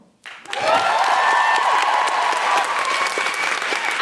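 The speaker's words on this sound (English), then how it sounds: "Could we please have a big round of applause for Lara and Samuel?" Audience applause for guests at a live podcast recording, beginning abruptly after a moment of quiet and then holding as dense, loud, even clapping from a full crowd.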